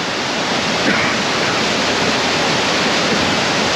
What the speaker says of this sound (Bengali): এই যে ওয়াটারফলটা